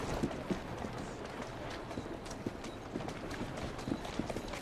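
Horse hooves pull a carriage in Assassin's Creed Syndicate, clip-clopping in a quick, steady rhythm at moderate distance under faint background noise.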